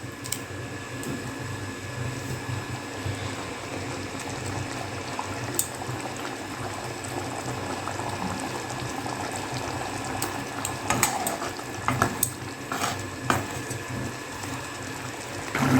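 A jackfruit seed and cashew masala curry simmers in a pan, giving a steady, fairly loud bubbling and sizzling wash with scattered small pops and clicks, no voices present.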